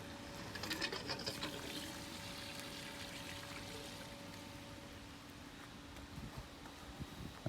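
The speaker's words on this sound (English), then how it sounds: "so that sucks water through. I'm just going to plug the end of the hose onto that" A pool skimmer hose draws water in a soft, continuous gurgling rush with a faint steady hum underneath and occasional light knocks near the end.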